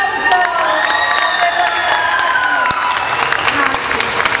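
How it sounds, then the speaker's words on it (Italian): At a comedy show, a lively audience bursts into loud applause mixed with cheering and whoops, with a bright synthesized musical tone sweeping over the crowd noise throughout. "Un applauso!"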